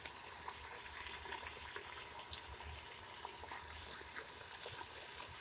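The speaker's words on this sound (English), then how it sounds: "now that we're getting a boil, you can hear it sizzling." Meat in a pot of water for Rotel cheese dip boils and sizzles steadily, giving a continuous bubbling hiss with small pops, heard close and fairly faint.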